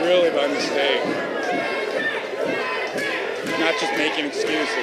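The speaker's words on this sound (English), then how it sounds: "Now the crowd trying to get behind Cedric Alexander here" Wrestling crowd at a Cedric Alexander vs Eddie Edwards match roars and chatters steadily in the arena while a commentator talks over it.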